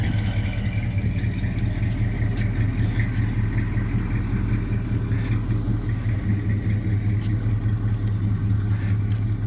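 A 1978 GMC C15 pickup truck's engine idles steadily in a garage, a constant low rumble with a smooth, even throb that holds for the whole stretch without revving.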